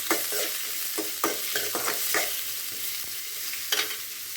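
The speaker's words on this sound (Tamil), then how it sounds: "இப்போ நம்ம ஆனியன் ஆட் பண்ணுறோம். கூடவே கறி லீவ்ஸும் போட்டுருக்கோம். இதை நல்லா ஃப்ரை பண்ணுறோம்." Onions and curry leaves fry with garlic in a pan, a steady close sizzle broken by repeated scraping stirs and clinks of a spoon against the metal; no one speaks.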